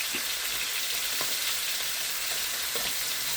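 Pork sizzles and spatters in a hot pan, a steady crackling hiss with small pops, close by and with no voices.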